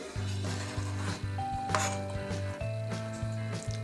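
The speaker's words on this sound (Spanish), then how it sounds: "También vamos a picar nuestro betabel." A knife chops peeled beetroot into small cubes on a cutting board for a Christmas Eve salad: a handful of irregular, close knocks set under steady background music.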